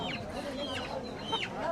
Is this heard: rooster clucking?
yes